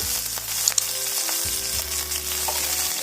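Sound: frying curry leaves and chillies in oil

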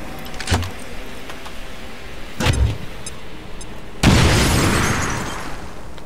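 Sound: grenade explosion in the video game XCOM

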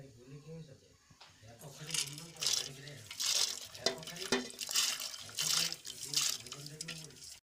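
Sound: washed lentils being put into hot water

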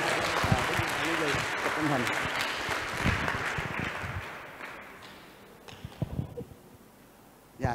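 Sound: audience applause, children clapping long and loud

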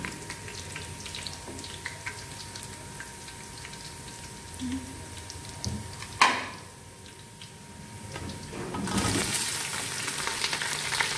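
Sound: onions frying in a pan

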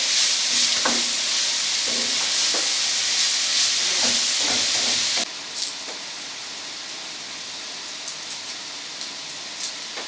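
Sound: sautéing food in a pan

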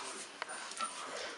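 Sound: 34-day-old Belgian Malinois puppies whimpering

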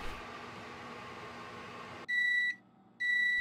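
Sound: microwave oven beeping when done

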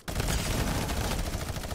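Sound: minigun firing in video game

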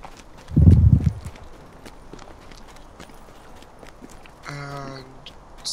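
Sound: horse hooves clip-clopping in Lord of the Rings Online video game

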